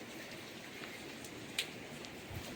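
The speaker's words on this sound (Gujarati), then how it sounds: "મારા મોબાઈલ ઉપર પાણી પડે છે વરસાદ તો ચાલુ જ છે" Soft, steady rain with a few close drops tapping on a nearby surface, faint and continuous, no voices.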